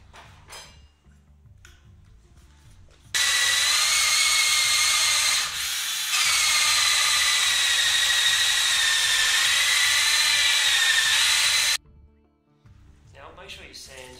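A power drill cutting a 66mm hole for an R2-D2 radar eye, one loud, steady high whine lasting several seconds with a brief dip midway, while someone talks before and after.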